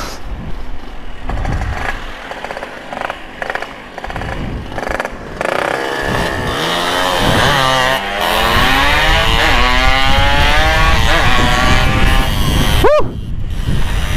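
Motorcycle engine revving and accelerating up close during a ride, rising and falling in pitch with a steady roar and one sharp burst near the end; a dog barks briefly early on.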